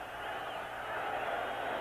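Stadium crowd at a 1983 Monday Night Football game between the Giants and Lions, a broad, steady roar of cheering that swells slightly, heard at a distance.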